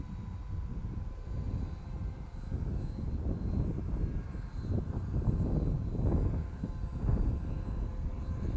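A homemade foam RC plane built from skip foam flies overhead, its small propeller motor droning steadily and swelling slightly as it passes, fairly loud and unbroken with no talk.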